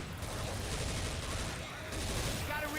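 Rapid scoped gunfire in a video game, a dense continuous burst of shots with loud crackling reports filling the whole stretch, mixed with faint game sounds.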